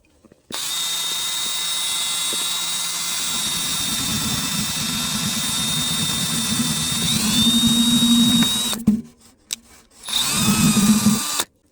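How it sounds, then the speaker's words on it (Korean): A power drill whirs steadily for several seconds, its pitch shifting as it bites into a styrofoam box, then stops briefly and starts again for a short burst. "구멍을 뚫어 놓겠습니다"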